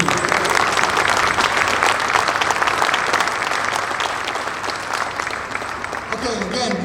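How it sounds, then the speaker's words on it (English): An audience applauds veterans at an Honor Flight reunion event, with sustained loud clapping filling the room and gradually thinning toward the end, while a voice is heard over it. "So give them another round of applause"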